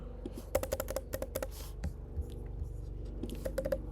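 Rapid bursts of computer keyboard typing while an SQL query is entered, crisp clustered keystrokes close by with short pauses between runs, no talking.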